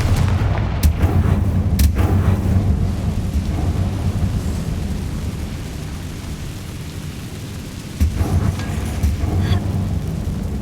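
The Confringo fire spell from Hogwarts Legacy erupts in a loud, close, thunderous blast, followed by a long rumbling roll that fades, and then a second crackling burst near the end.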